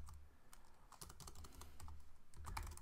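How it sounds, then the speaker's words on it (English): Quiet, steady typing on a computer keyboard, a run of soft key clicks at an even pace with no talking, heard close but faint. "So what I'm going to type here is"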